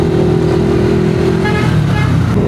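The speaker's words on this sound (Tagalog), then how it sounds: "Grabe ang traffic pabalik oh." Busy road traffic with cars and motorcycles, engines droning loudly and close, with a steady horn toot held through the first half and a brief higher honk later.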